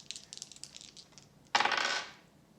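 Dice are rolled for a row-and-column pick in a riddle game: a few light clicks, then one loud rattling tumble of about half a second that fades out.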